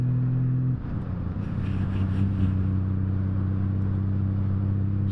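Steady engine drone of a Honda Valkyrie motorcycle riding on a road, a constant low hum with a slight shift in pitch early on, mixed with wind noise and no talking.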